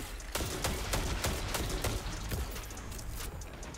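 Sidearm fire in a video game, a rapid string of sharp, evenly spaced shots rattling off in a dense burst, close and loud over a noisy backdrop.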